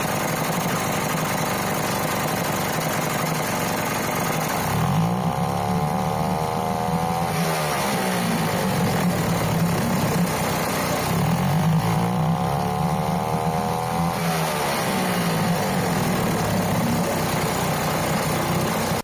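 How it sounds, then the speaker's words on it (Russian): A small Sea-Pro T2.6S single-cylinder two-stroke outboard motor idles steadily with a buzzy, rattling drone, twice rising briefly in pitch as it is revved, then settling back. "Мотор работает замечательно."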